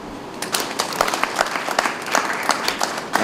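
A wedding crowd claps in a burst of applause, dense and fairly loud, with individual claps audible in the mix.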